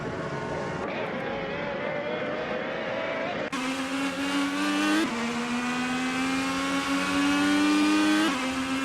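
IndyCar race cars scream around a track in a video game, high-pitched engines whining and shifting in a tight pack, with pitch jumps as the view cuts between cars; loud and continuous.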